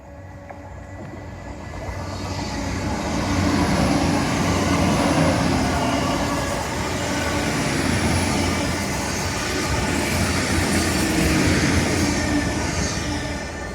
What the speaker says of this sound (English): And a train. Hello, train.